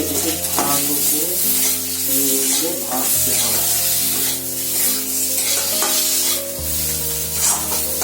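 Spice paste of cumin and ginger fries on a low flame in a pan for a thin rohu fish curry, a loud steady sizzle broken by repeated stirring scrapes, no voices.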